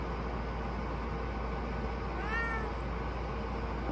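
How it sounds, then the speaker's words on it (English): A single short meow from a house cat rises about midway, fairly faint over a steady indoor hum. "It's my cat."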